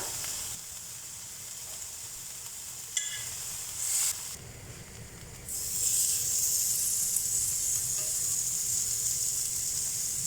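Prawns grilling in a pan sizzle steadily with a bright, hissing crackle that grows louder after a few clinks, continuing close and alone without talk.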